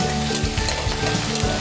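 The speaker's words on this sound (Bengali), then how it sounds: "পেঁয়াজের কালার অহালেকে এইখানে ভাজি লম" Chopped onions fry in a pan with a dense, close, continuous sizzle and some faint stirring, with no voices.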